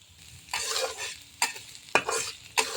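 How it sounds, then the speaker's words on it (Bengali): Chopped onion and green chilies stir-fried in soybean oil, a steady close sizzle broken by several louder bursts of stirring and scraping, with no talk. "এই তেলের মধ্যে এখন দিয়ে দিব পেঁয়াজ কুচি এবং কাঁচামরিচ।"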